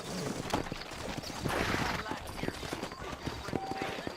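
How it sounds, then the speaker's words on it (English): Horse hooves clip-clop in the Red Dead Redemption video game, a quick rhythmic run of hoofbeats at moderate distance under a voice talking over them. "You ain't gonna find sturdier horses than these in all of New Ulster."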